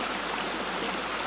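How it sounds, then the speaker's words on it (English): A stream's running water rushes in a steady, full, unbroken wash, close and constant from start to end. "that is the sound of running water."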